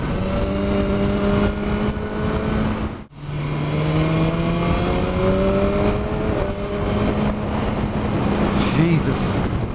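A 2017 BMW S1000R motorcycle, Euro 4 model with a tuned ECU, revving and accelerating hard, the engine tone climbing through gears with a brief drop at a shift, loud and steady throughout.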